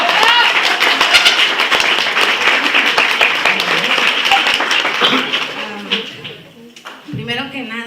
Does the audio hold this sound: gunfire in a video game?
no